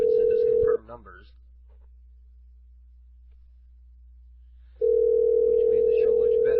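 A telephone dial tone during a live prank call on a radio show, a loud steady hum that cuts off for a few seconds of near silence and then returns, with brief talk near the cutoff.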